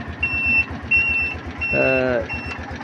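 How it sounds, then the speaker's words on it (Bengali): An engine-driven bike vehicle's indicator beeps in a steady repeating rhythm, loud and close, over a low idling engine, with a short burst of another tonal sound partway through. "আপনার ইন্ডিকেটারের সাউন্ডটাই পরিপূর্ণভাবে বোঝা যাচ্ছে"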